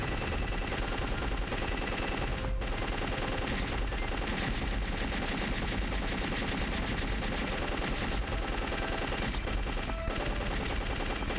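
Continuous rapid gunfire from a side-scrolling airship shooter, Legend of the Steel Empire on Switch, a dense unbroken machine-gun rattle blended with game music and explosions, loud and steady throughout.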